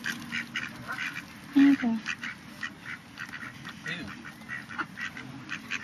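Ducks quack in short, scattered calls close by amid outdoor rustle, while people talk over them.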